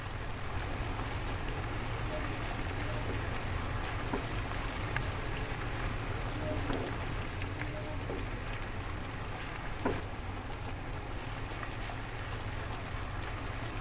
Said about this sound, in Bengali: পেঁয়াজগুলোকে নেড়ে চেড়ে গোল্ডেন কালার করে ভেজে নিব।